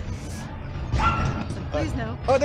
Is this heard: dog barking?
yes